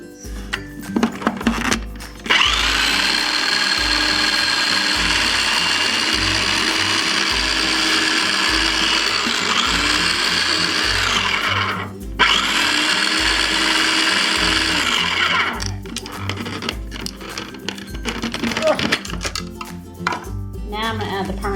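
A stand mixer churns pesto meatball ingredients with a loud, steady mechanical whir and rhythmic ratcheting, briefly pausing midway before resuming, with clattering at start and end.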